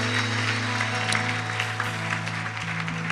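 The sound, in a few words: audience applause in church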